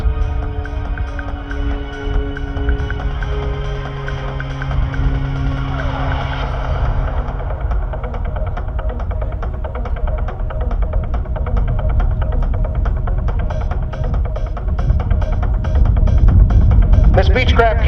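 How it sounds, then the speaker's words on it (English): Beechcraft King Air C-90B twin turboprop with Pratt & Whitney engines climbing at an airshow, giving a steady broad roar and low rumble that swells slightly toward the end, with a faint hum of crowd and wind. "Very quiet Pratt & Whitney turboprop engines, lots of power as you can see"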